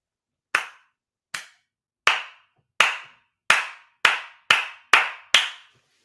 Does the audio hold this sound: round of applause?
yes